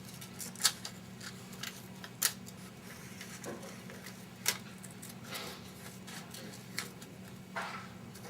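Scissors cut the center of a paper flower made with stamps, giving several quiet, separate snips and crisp paper rustles spread unevenly over a low steady hum, close and soft, with no talking.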